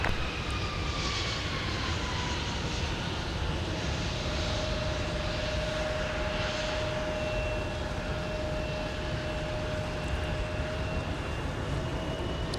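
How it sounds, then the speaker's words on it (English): Airbus A320-200 jet departing for New York's LaGuardia on a winter day at Minneapolis airport, a loud sustained engine roar with a rising whine, heard steadily from the ground throughout with no voices. "A320-200, former Red Tail, departing for New York's LaGuardia Airport"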